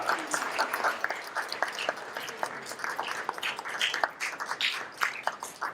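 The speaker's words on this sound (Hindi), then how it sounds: "जोरदार तालियों के साथ" A theatre audience applauds after a performance of the play Aadhe Adhoore, a sustained patter of many clapping hands heard at moderate distance without a break.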